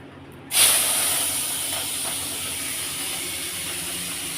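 Shrimp dropped into hot mustard oil in a wok burst into a loud, sudden sizzle that settles into a steady, close hiss and keeps going.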